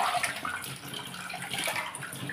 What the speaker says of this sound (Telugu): ఇలా వేసుకున్న వాటిని శుభ్రంగా వాష్ చేసుకుంటున్నానండి